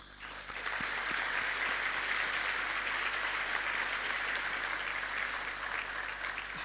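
Steady applause from a conference audience honoring presenters at the closing session of the 14th SANORD International Conference, a dense, even wash of clapping that swells quickly and holds at a constant level throughout.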